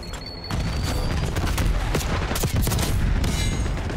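Rapid gunfire in Call of Duty Black Ops 6, loud and nearly continuous bursts of shots and impacts filling the whole stretch, with no talk over it.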